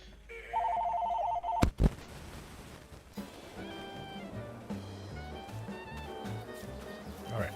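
A phone rings in Farming Simulator 22, a short burst of rapid trilling rings, followed by a couple of sharp thumps and then in-game music with background sounds.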